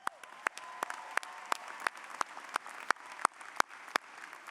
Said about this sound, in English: Round of applause for you today.